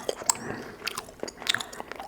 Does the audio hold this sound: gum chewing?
yes